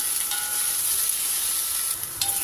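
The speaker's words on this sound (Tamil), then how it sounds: "இப்போ இந்த கேப்சிகம் பாருங்கள் நல்லா வதங்கிடுச்சு" Capsicum sautéing in a kadai gives off a loud, continuous bright hiss of frying that holds steady throughout, up close with no voices.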